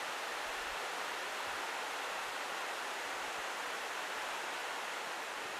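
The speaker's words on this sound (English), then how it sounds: "It just started really pouring down." Heavy rain pouring down, a dense, even hiss of falling water that continues steadily and alone from start to finish.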